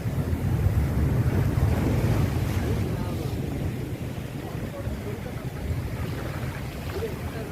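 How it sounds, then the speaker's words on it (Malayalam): A big ocean wave breaks at Kappil beach near Varkala as a broad roar of surf, mixed with wind buffeting the microphone. "ആ വരുന്നത് വലിയ തിരയാണെന്ന് തോന്നുന്നു കണ്ടിട്ട്."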